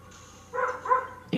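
A cartoon dog in Looney Tunes World of Mayhem gives two short, close barks in quick succession, each a bright, tonal yelp, followed by a brief thump.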